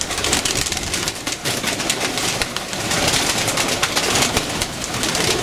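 Pigeons coo and rustle close by while pecking at pellet feed, a dense, continuous bird chorus with scattered wing and feeding noises.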